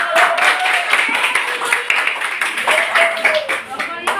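Schoolchildren in a classroom clap together in a sustained round of applause for a presenting group, loud and close, with voices and chatter mixed through the clapping.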